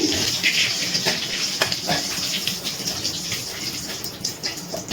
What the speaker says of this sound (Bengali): এবারে ফোড়নটাকে একটুখানি তেলের মধ্যে নাড়াচাড়া করে ভেজে নিচ্ছি।